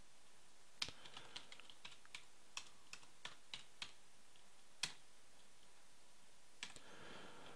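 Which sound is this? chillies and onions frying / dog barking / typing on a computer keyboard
typing on a computer keyboard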